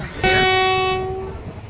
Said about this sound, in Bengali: কাটোয়া থেকে ছেড়ে মাত্র সাত কিলোমিটার দূরত্ব অতিক্রম করে ট্রেন তার ফার্স্ট হল্ট সিবলুন হল্ট এন্টার করছে